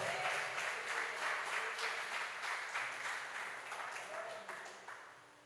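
Church congregation applauding during a sermon to glorify the name of the Lord, a soft, steady wash of clapping that gradually fades over several seconds, with some voices underneath.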